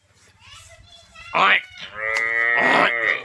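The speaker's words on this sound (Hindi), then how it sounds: "इधर देखिए ये रहा, ये हमारी भैंस एक लग रही है।" Buffalo lowing in a village shed, two loud drawn-out moos close by, the second long and sustained, with children's voices and chatter around them.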